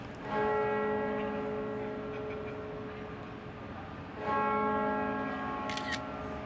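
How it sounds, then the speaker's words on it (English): Large bells of St Paul's Cathedral, London, ring out at midday with rich, lingering harmonic tones, two strong strikes a few seconds apart, each decaying slowly into a reverberant hum. "heading up to St Paul's Cathedral to listen to the bells"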